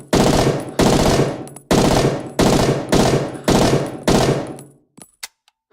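Rapid automatic gunfire from a weapon on a practice range in Rising Storm 2, loud and close, fired in about seven sustained bursts with brief gaps, then a few sharp isolated shots as it ends.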